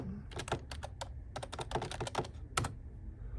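A username is typed on a computer keyboard during an Active Directory login: a quick, close run of crisp key taps that clusters into bursts, then ends with one firmer keystroke, which sounds like the Enter key.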